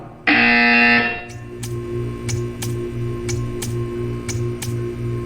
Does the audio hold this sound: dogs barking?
no